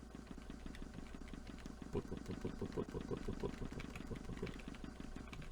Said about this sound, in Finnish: se on varmaan joku moottori tai joku turbiini tai joku tämmönen